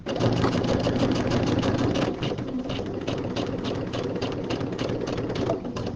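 A sewing machine with a Teflon foot stitching a quarter-inch seam on a fabric project bag, a fast, steady mechanical whirr with a rapid rhythmic needle tick, close and continuous, slightly easing after the first couple of seconds.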